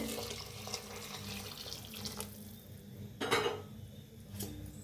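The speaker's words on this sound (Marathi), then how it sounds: "आता गरम पाणी ओतून घेऊया" Hot water pours steadily into a pan for several seconds, with a brief louder splash near the middle and faint clinks of the pan.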